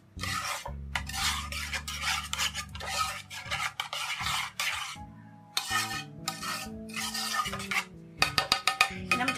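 Spoon scraping and stirring spaghetti sauce in a pot, with repeated rasping strokes and clinks against the metal sides, close and steady over several seconds, with brief pauses.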